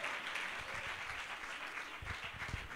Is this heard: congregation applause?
yes